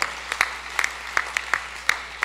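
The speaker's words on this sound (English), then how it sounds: "We can applaud." A gala audience gives sparse, scattered claps, roughly a dozen separate sharp hand-strikes in an uneven rhythm, fairly quiet and distant, with no voices over them.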